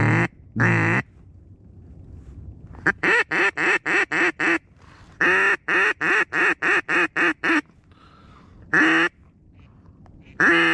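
Ducks quack in loud, rapid bursts during a 2023 Minnesota duck hunt, with strings of sharp calls separated by short pauses and a steady outdoor background hum.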